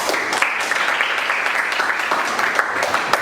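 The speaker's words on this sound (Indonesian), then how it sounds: "tepuk tangan dulu." Classroom applause from a group of students in a milling-machine lesson, steady dense clapping filling the whole stretch at a fairly loud, even level with no pause.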